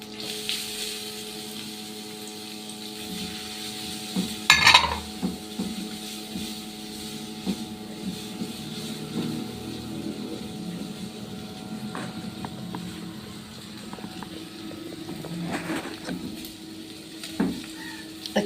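Grated onion frying in oil with a cube of butter in a pan, giving a quiet, steady sizzle. A sharp scrape or clatter of stirring comes near the start, followed by softer intermittent stirring sounds.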